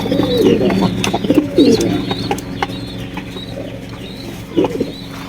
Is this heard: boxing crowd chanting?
no